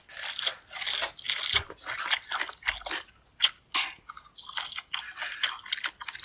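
Chicken bones are crunched and chewed close to the microphone, with loud crisp crunches and wet squishy bites coming in an uneven, busy rhythm.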